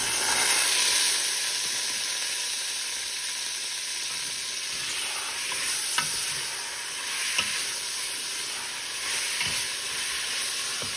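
Mutton frying in a pan with onions and ginger-garlic paste for dum biryani, a continuous close sizzle and hiss with occasional stirring clinks, steady for eleven seconds, no voices.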